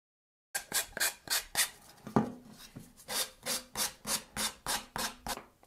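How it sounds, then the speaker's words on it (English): An X-Acto knife scraping the printed brim off a 3D printed axe head, a steady series of about a dozen rhythmic rasping strokes, close and moderately loud, with no talk. "I will try to use my X-Acto knife because I don't have a deburring knife, which would be really suitable for removing the brim."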